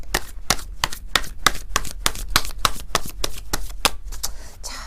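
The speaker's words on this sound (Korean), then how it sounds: "이 두 가지의 카드를 조금 더 뽑아보도록 하겠습니다" Tarot cards are shuffled in a rapid, regular run of crisp riffling clicks and snaps, close and fairly loud, continuing for several seconds.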